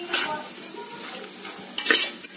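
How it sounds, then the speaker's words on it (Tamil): Onions being stirred and fried in a pan for country-chicken dum biryani, with soft sizzling under brief scraping stir strokes near the start and a louder clinking of spoon against pan near the end. "ஸோ ஸ்லோ ஃப்ளேமில் வச்சுட்டு நல்லா பொறுமையாக இதை வெங்காயத்தை வதக்குங்க."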